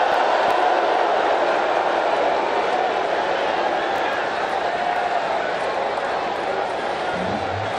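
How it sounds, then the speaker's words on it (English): Stadium crowd at a cricket match keeps up a steady, loud, continuous roar throughout, a dense wash of massed voices with no breaks. "Outstanding crowd here at this stadium today, and they're very vocal right now."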